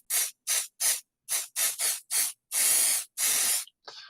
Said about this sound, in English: So I'm going to take the Pixie spray.